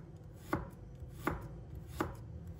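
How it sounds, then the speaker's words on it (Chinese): Three crisp, evenly spaced knife strikes against a cutting board as fresh ginger is cut into thin slices, close and clear with no talking. "把它切成薄片，"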